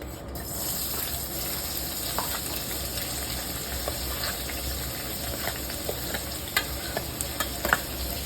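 Onions and cardamom sautéing in oil in a kadai, a continuous near sizzle broken by repeated ladle scrapes and taps that grow sharper toward the end.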